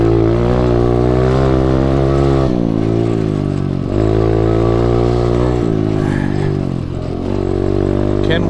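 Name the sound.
SSR125 pit bike engine revving while riding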